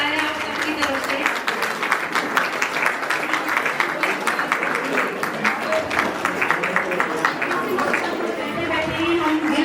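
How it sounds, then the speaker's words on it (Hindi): At a Brahma Kumaris centre inauguration, a crowd claps to welcome the sisters, with rhythmic, fairly loud clapping that continues throughout while voices and chatter mix underneath. "आप सभी तालियों के साथ हमारा साथ देंगे"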